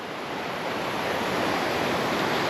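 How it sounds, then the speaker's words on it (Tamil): River water rushing past on a forest trek near Kirahan village in Kasol, a loud, steady broadband roar that fills the scene without a break. "அந்த ஆற்றுல போகிற தண்ணி சவுண்டு ஓவராக கேட்குதுல்ல"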